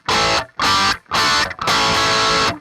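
An electric guitar with mid-gain distortion plays four loud bursts of chords, the first three short and separated by brief gaps, the last held longer before cutting off.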